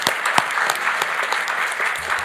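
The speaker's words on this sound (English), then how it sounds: "So a round of applause for all these folks and all the hard work." Applause rises from a crowd at a political event held by House Republicans, a steady, fairly close wash of clapping with a few sharper claps standing out.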